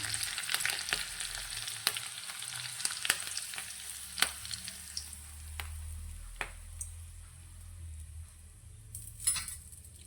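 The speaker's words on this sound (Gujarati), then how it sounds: "એકદમ સરસ એવો આપણો વઘાર થઈ જાય એટલે આપણે તેને ઢોકળાની ઉપર રેડી દઈશું" White sesame seeds and green chillies fry in hot oil for a dhokla tempering, a steady close sizzle scattered with sharp crackles and pops throughout, with no talking.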